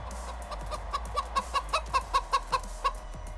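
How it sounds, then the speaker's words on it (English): A chicken brought into a rodeo arena at a Houston championship show clucks in a quick run of about a dozen sharp, evenly spaced calls, fairly near, over low arena rumble. "we even brought our own chicken."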